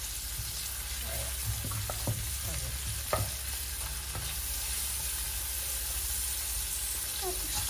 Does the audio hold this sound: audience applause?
no